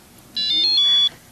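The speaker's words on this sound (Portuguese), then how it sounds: "O bip do meu telefone." A phone's short electronic beep, a single bright tone lasting under a second, clear and close against a quiet background with no talking.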